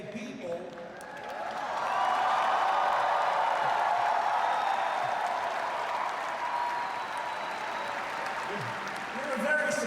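A large crowd at a Bernie Sanders rally in Chicago claps and applauds in a dense, sustained wash that swells after a moment and holds steady for several seconds.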